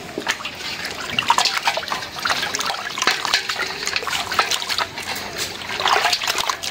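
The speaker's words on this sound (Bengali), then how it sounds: "এখন মাছগুলো ধুইয়া একেবারে রেডি করে ফেলাম।" Water pours and trickles steadily while fresh Padma river rita fish are washed, splashing and dribbling close by with no talk.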